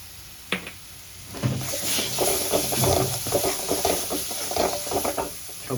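Spice masala with Kashmiri red chili powder sautéing in a pan over low flame: soft sizzling and scraping as a spoon stirs it steadily, close and fairly quiet, with no talking.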